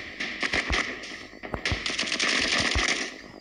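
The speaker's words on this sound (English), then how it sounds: "can you stop shooting at me" Gunfire in a shooter video game: a busy run of sharp shots and bursts, some close and punchy, others rattling quickly, continuing steadily through the clip with no talking.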